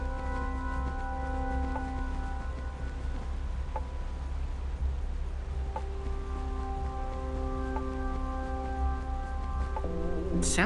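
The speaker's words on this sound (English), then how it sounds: "Sounds like the music is coming through the wall." Soft background music drifts through a wall in the video game Minecraft Story Mode, muffled sustained tones and occasional chime-like notes over a steady low hum, heard alone without talk.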